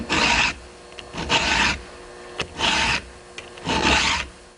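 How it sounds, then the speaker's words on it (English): A round file sharpens a chainsaw chain in four even, close rasping strokes, each about half a second long, with short quiet gaps and faint ticks between them. "just run your round file and sharpen it up"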